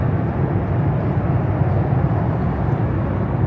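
Inside a cramped GOL Airlines passenger plane in flight, a loud, constant low roar of cabin noise fills the space steadily, with no voices.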